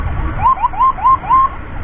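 Ambulance emergency siren on an escorted unit, a wailing tone that sweeps up and down in repeated short cycles, fairly close over low road rumble.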